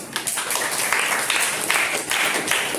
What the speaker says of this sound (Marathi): टाळ्या दिल्या